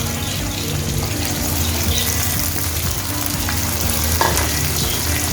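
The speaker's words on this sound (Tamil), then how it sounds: "சேர்த்து நல்லா வதக்கி விட்டுருவோம்" Peeled onions sizzle and crackle in a pan for a drumstick and brinjal gravy, with a loud, continuous frying hiss and occasional stirring scrapes close by, no speech.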